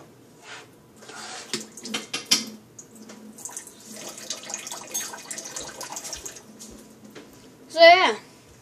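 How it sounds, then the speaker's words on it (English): Warm water swished around a plastic toy in a container, a soft irregular sloshing and splashing with a louder splash near the end, close and moderate, with a voice speaking over parts of it. "I'm gonna swish some warm water."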